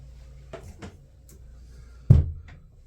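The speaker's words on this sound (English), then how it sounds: "Shut the door." A door shut in a room with the lights off, giving one solid thud near the end, preceded by a couple of softer knocks and rattles.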